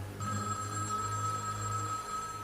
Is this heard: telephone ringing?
yes